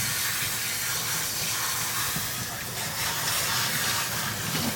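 Water from a salon spray nozzle rinses hair during a shampoo, a continuous close hiss of spray that stays steady and fairly loud throughout.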